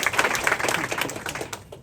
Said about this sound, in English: I give him a round of applause for sharing that